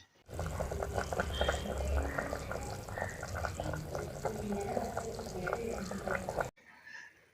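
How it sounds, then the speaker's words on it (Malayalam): Water pours steadily into a pot of chicken, a close, gurgling splash lasting several seconds before cutting off, with faint background noise. "ഇതിൻ്റെ ഒപ്പം തന്നെ വെള്ളം ഒഴിച്ച് കൊടുക്കാം"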